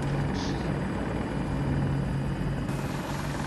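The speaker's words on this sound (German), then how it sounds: "Heli über uns." A helicopter in Battlefield 2042 drones steadily overhead, a constant loud rotor and engine roar filling the whole stretch with no pauses.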